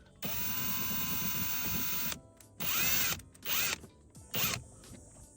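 A power drill whirs in one long burst followed by three shorter bursts, close by, with quiet pauses between them, drilling holes in a tight spot on a 2019 Toyota Tacoma TRD.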